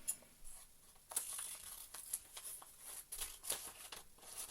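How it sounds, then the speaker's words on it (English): Scissors cutting through folded dress pattern paper, a series of short crisp snips and paper rustles at close range, with no talking. "cut off any excess I don't need"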